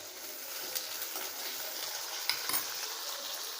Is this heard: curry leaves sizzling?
yes